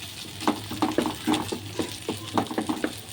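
Bitter gourd (uchhe) fries in a pan with a steady sizzle, broken by rhythmic scraping strokes as it is stirred, close by.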